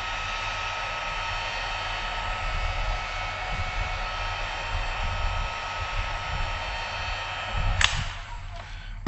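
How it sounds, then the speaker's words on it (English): A heat shrink gun blows a steady, loud rush of hot air while shrinking tubing onto a rope, with a sharp click and a brief clatter near the end as it shuts off. "when we use the heat shrink gun, we want to make sure and put it on a setting that's not going to damage the rope"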